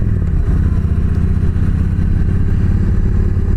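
Motorcycle cruising along a rural road near the Shawangunk Mountains, a loud, steady engine drone with constant wind rumble from the rider's position, no shifts heard.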